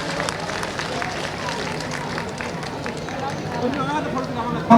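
Audience applause at Uttarakhand Mahotsav, a dense, steady roar of many hands clapping mixed with crowd noise and chatter, continuous and fairly loud throughout.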